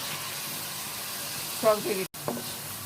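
Eggplant pickle curry (achari begun) sizzles steadily in a pan as a spoonful of sour yogurt goes in, with a brief louder burst of bubbling and spattering partway through, then a short dropout before the frying resumes.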